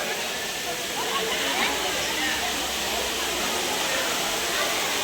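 Water gushes steadily from a carved stone elephant fountain at a Siddhivinayak Ganesh temple, a continuous loud broadband rush filling the whole clip with faint voices beneath.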